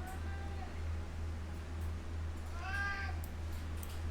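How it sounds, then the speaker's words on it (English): A cat meows twice, a short call near the start and a longer, louder rising meow a few seconds later, over a constant low mains hum. "The cat, he meow."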